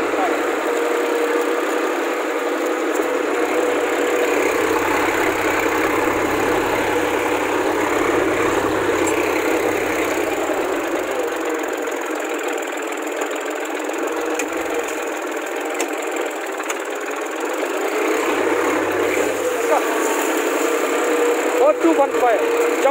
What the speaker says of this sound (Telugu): జపాన్ టెక్నాలజీతో తయారు చేయబడిన 4215 ట్రాక్టర్ సోలిస్ యాన్మార్ 4215 ట్రాక్టర్ అండి.